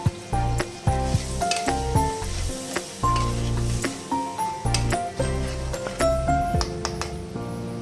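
Mustard paste water is poured into a hot cooking pan, setting off a steady sizzle and frying hiss under prominent background music with tonal notes.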